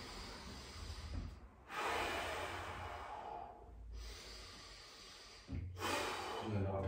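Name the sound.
deep breathing in through the nose during mobility exercise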